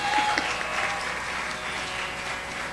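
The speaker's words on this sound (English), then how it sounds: "Big round of applause for Srimati Madhavi Mehta." Audience applauding at a Bharatanatyam arangetram as the dance guru is introduced, a soft, steady patter of clapping from a hall crowd, fairly distant and even throughout.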